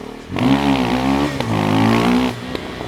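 A motorcycle engine revs hard and climbs through the gears during a wheelie, its pitch rising steadily then dropping at each of two quick upshifts; loud and close, with no talking.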